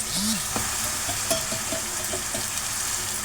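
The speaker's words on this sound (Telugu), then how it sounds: "ఇలా మనం అల్లం చిన్నులపాయ పేస్ట్ అనేది బాగా ఆయిల్లో ఫ్రై చేసుకోవాలి." Ginger garlic paste and mutton pieces fry in hot oil in a pan, giving a steady close sizzle with faint scrapes and stirring clinks, alone with no voices.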